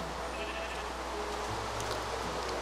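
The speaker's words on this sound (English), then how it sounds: "Sheep are pretty cool" Sheep bleat in a blocky survival game, a few short bleats rising over a constant loud background bed of ambient noise.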